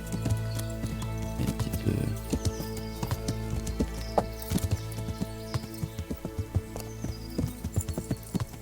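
A horse's hooves clip-clop steadily in Kingdom Come: Deliverance, a close, regular rhythm of hoofbeats under a dense layer of ambient game sound, with no voices.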